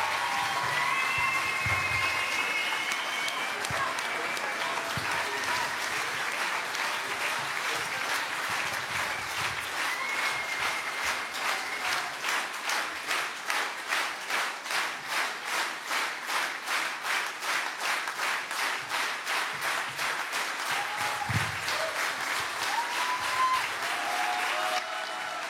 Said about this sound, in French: faire un tonnerre d'applaudissements pour François Piquemal